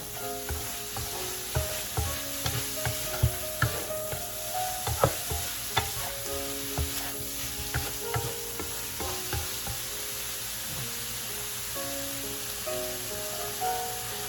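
Rice with shrimp, egg and green onion stir-fried in a wok gives a steady, close sizzle, with repeated clinks and scrapes from stirring and faint tonal music running underneath.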